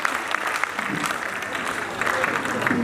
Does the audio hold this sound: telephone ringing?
no